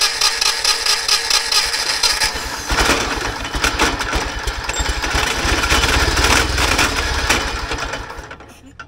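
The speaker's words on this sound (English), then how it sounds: "with a little brake cleaner down the holes, she fires up" John Deere 318 lawn tractor engine cranking and firing up after brake cleaner is sprayed into the cylinders, a loud close chugging roar that catches and runs unevenly before cutting out.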